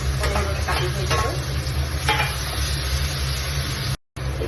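Ginger-garlic paste frying in a pan for chana dal with bottle gourd, a steady loud sizzle with several stirring scrapes, cutting out briefly near the end.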